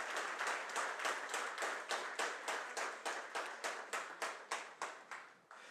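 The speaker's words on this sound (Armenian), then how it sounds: "ես առաջարկում եմ բարձր ծափահարություններով մեր զինվորականներին ողջունել։" An audience at a political gathering on peace and the army claps loudly in a steady, unison rhythm, about twenty even, close claps that slowly soften toward the end in salute to the military.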